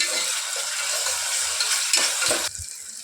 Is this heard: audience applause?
no